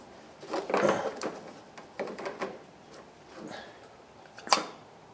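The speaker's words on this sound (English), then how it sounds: "I have a little Mighty Vac, kind of a vacuum bleeder. I'm just gonna stick that in there, and I'm gonna drain this down." A small Mighty Vac hand vacuum bleeder pumping brake fluid out during a brake flush: a series of close, uneven clicks and rustling bursts from the hand pump, with a sharper snap near the end and no talk.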